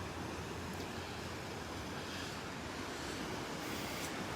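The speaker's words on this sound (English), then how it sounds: "But our beach does not need this pounding from the waves." Surf pounding a Gulf beach at Delnor-Wiggins, North Naples, under wind, a continuous broadband roar with soft swells of breaking waves, fairly faint and steady throughout, no talking.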